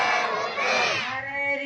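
A crowd at an Eid Milad-un-Nabi gathering shouts religious slogans in unison in response to a leader's call. The voices form one loud, sustained roar that swells and then fades.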